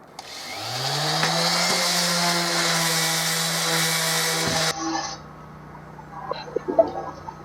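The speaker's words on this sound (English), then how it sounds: "I'm going to try sanding one face of it" Power sander grinding across one face of a piece of scrap wood, a steady loud whining drone that starts abruptly, runs for about four seconds, then cuts off, followed by a lower motor hum and a few light knocks.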